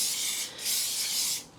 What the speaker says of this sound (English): we've got some spray oil. We're going to coat the pan.